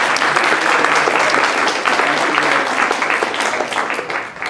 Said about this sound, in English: let me just ask you to give a round of applause to Garth